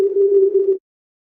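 Filtered noise from a ZynAddSubFX subtractive synthesizer with a wider bandwidth setting, heard as a steady, fairly loud tone-like hiss held for under a second and then cut off into silence.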